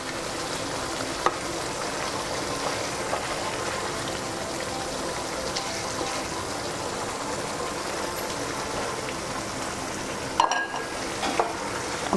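Egg prawn fry cooking in a pan, a dense, even sizzle and crackle that carries on throughout, with a few small clinks near the end.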